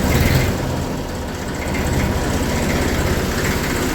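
A small Massey Ferguson tractor engine idles nearby in a steady, low, throbbing rumble that runs evenly throughout with no speech.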